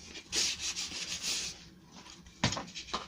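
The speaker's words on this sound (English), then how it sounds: "Got to sand these, but you can use that edge," Sandpaper is rubbed along edges in a run of quick scratchy strokes, a pause, then a second short burst of sanding, close and fairly quiet, with no voices.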